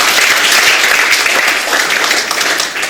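Church congregation at a Pentecost Sunday service clapping loudly for God, a thick, steady roar of many hands close and continuous, easing slightly toward the end.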